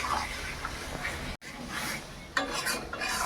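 Marinated mutton goes into a pan of frying spices and is stirred, making scraping, rubbing and spatula-on-pan sounds with one brief pause partway through.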